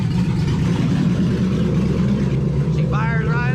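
A 1999 S-10 pickup with an LS engine swap and no exhaust fitted idles loudly and steadily, giving a dense, rough rumble throughout. A voice speaks briefly near the end.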